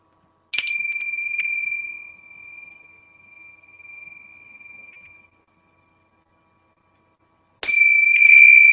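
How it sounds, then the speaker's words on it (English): Two strikes of a small metal prayer bell rung during a global peace prayer: a bright ring that lingers and slowly decays over about five seconds, then silence before a second loud strike, with no talking. "So, all right, here comes the bell."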